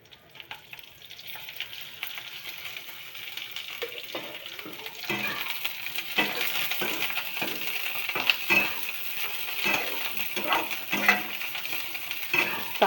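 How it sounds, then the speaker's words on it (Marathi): Green chillies roast with oil in a pan, a steady close sizzle broken by occasional scraping and stirring clinks of a utensil against the pan, growing louder as it goes, with no talking. "हे बघा मिरच्या भाजत आल्यात."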